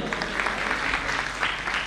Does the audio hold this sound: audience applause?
yes